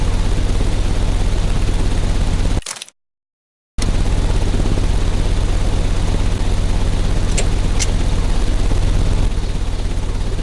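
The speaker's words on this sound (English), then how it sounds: "The engine has started." An engine runs in the game Sherlock Holmes Crime and Punishments as a loud, steady mechanical drone. The whirring continues throughout except for a complete dropout of about one second near the start.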